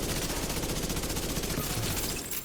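Dense automatic gunfire with hollow point rounds in the video game Division 2, a rapid, loud, continuous stream of shots that fills the whole moment before easing slightly at the end.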